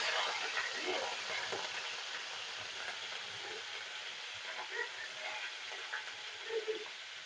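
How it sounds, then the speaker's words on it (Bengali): Paneer cubes frying in hot oil in a kadai on a gas stove, a steady broad sizzle holding throughout with small crackling pops scattered on top, close and fairly loud with no voices. "তেলটা আমার গরম হয়ে গেছে, এবার পনিরগুলো ভেজে নেবো।"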